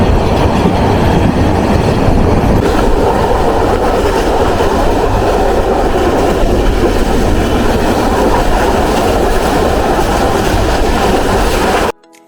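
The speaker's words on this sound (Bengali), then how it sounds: "ট্রেনটা এত গতিতে চলতেছিল" A fast-moving train on a trip to Chattogram roars loudly and continuously, a dense rumbling clatter of wheels on rails that cuts off abruptly near the end.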